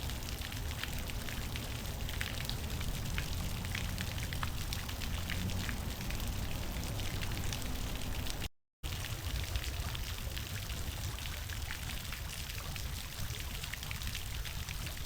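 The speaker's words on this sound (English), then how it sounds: "You have the natural sounds of water." Steady rushing water flows without pause, a dense continuous wash of splashing recorded by an Insta360 Ace Pro 2 camera's internal microphone, with a brief cut in the middle.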